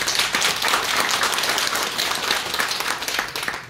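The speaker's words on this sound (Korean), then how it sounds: "먼저 큰 박수로 맞으시기 바랍니다." An audience at a policy forum in Seoul's Press Center gives a speaker a welcoming round of applause, with brisk, even clapping from many hands continuing throughout.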